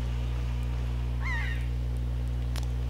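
A single harsh caw from a bird in Wind Waker HD rings out briefly in the middle, set against a steady low electronic game hum.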